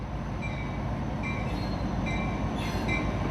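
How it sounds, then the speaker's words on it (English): A Tri-Rail commuter train pulls into West Palm station, its low rumble steady throughout with repeated faint wheel squeals, heard close and without talk. "I swung over to the CSX side just in time to see a Tri-Rail commuter train arrive at West Palm."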